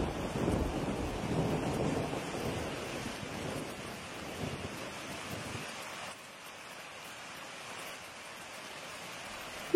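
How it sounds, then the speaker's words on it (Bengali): Heavy rain with thunder in an animated cartoon scene, a low rumbling wash of rain and wind that fades after a few seconds into a quieter hiss, with no talk. "মনে হয় এই বৃষ্টি আর থামবে না।"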